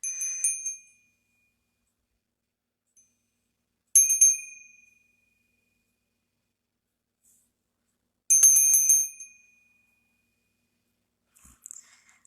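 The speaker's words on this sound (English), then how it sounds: "grandma's bell and incense holder" A small hand bell with a bright metallic ring, sounding three separate strikes several seconds apart, each ringing out and fading into silence, with a faint extra tinkle near the end.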